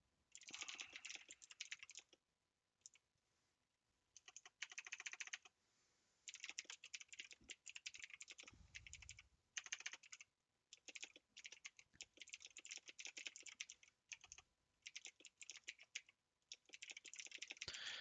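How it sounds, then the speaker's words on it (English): Computer keyboard typing in bursts of rapid key clicks with short pauses between, close but quiet, with no voices. "Here, I'll just type it."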